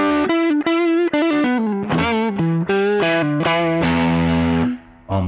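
An electric guitar played through a TC Electronic Nova Drive pedal on low gain distortion, a loud, sustained melodic run of single notes ending on a held note that fades out.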